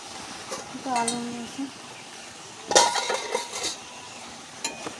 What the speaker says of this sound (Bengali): গরম দেখুন বন্ধুরা, এখন কষা হচ্ছে আস্তে আস্তে করে কষা হয়ে যাবে।